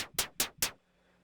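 An FM-synthesized drum sound programmed in Ableton strikes four quick, evenly spaced times, each a sharp, bright hit with a short decay, followed by quiet, faint near silence.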